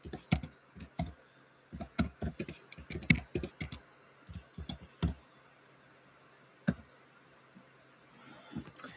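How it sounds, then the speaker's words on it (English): Fingers tap out a website address on a computer keyboard in quick bursts of close clicking, pausing now and then, with a final keystroke after a gap and faint room noise. "I'll type in my website here."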